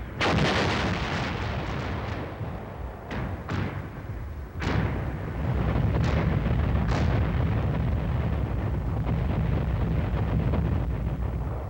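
Heavy artillery fires several loud, deep booms in quick succession, each leaving a long rolling rumble that settles into a sustained low roar.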